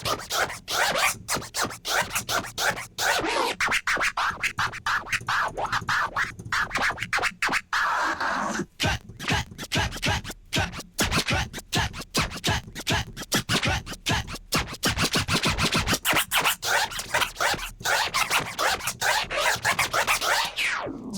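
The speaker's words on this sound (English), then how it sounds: "you can toggle through or quickly change your cut sound using the scratch banks" A DJ scratches on turntable-style controls, switching between cut sounds from scratch banks: dense, rapid back-and-forth scratches run almost nonstop, loud and close, with brief gaps and no talking.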